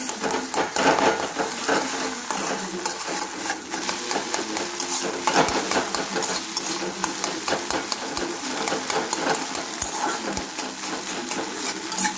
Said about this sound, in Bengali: এবার একটু ঝুরি ভাজার মতো করে নিচ্ছি